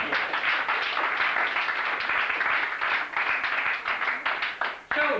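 Audience applause greets a guitarist being introduced at a Hungarian band's concert, a dense sustained crowd clapping that runs steadily throughout, briefly dipping near the end before swelling again.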